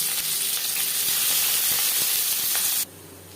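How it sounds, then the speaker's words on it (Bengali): Chopped onions dropped into four spoons of hot refined oil, a loud, bright, steady sizzle that carries for nearly three seconds and then cuts off abruptly to quiet. "4 চামচ রিফাইন্ড অয়েল গরম করে নেওয়ার পর দিয়ে দেবো পেঁয়াজ কুচি।"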